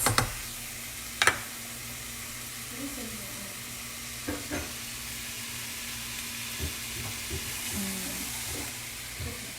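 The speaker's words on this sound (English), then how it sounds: "Okay, and then let's just saute it. Let it sweat." Onions and vegetables sautéing in a pan for a keto meatloaf, a low steady sizzle with a few sharp utensil clicks and stirring scrapes near the start and scattered through.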